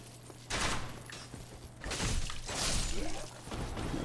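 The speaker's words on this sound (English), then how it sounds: "Completely forgot about the archers until they actually start shooting." Archers on a bridge in Dark Souls Remastered loose arrows, giving several sharp whooshing, crackling bursts in quick succession over a steady low in-game hum.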